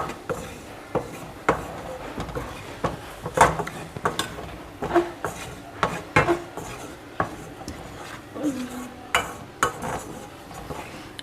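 Flour and garlic being stirred and roasted in a pan, with a spoon scraping and clinking against the metal in irregular close strokes and intermittent sharper knocks, no talking.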